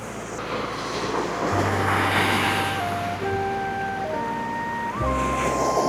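Sea waves wash onto the beach at Mousuni Island in a broad, continuous roar with a few thin tonal lines layered over it. No one speaks.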